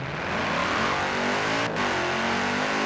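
Aston Martin Vantage sports car, unmodified, driven hard through corners: a loud, sustained engine drone with shifting revs, close and continuous, no talk.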